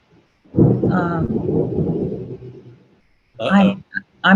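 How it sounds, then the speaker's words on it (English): A low thunder rumble before a storm swells for a couple of seconds, followed by a person speaking nearby. "Did you hear that? We're about to have a storm."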